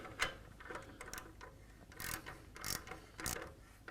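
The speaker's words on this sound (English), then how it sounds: "the last thing we need to do is tighten this clamp" A clamp on a motorcycle bracket is tightened during an S&S Cycle performance upgrade, giving a series of short ratcheting clicks and metallic scrapes in uneven bursts, close and fairly quiet.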